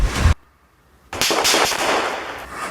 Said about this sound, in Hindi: अचानक से एक धमाका और सब कुछ बदल जाती है तस्वीर।